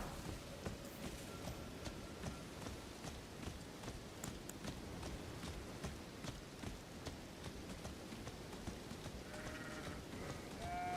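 A goat bleats in the video game Elden Ring, short calls heard over clip-clopping hooves and steady game ambience, with other tonal game sounds near the end.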